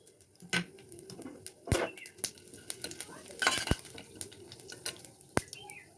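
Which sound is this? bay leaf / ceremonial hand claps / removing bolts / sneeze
bay leaf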